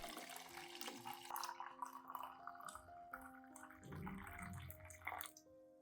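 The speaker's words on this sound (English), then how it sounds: "I add 500 milliliters of hot water into the clean glass cup." Hot water pours into a glass cup holding coffee and charcoal powder, a steady close splashing stream with faint ringing glass tones beneath it.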